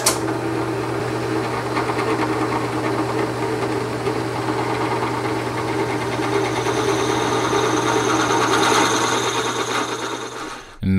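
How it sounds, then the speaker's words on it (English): A steady motor whine drones continuously for about eleven seconds, a drill boring holes in a slightly translucent pen blank at constant speed, then cuts off abruptly near the end. "So anyway, let's drill the holes."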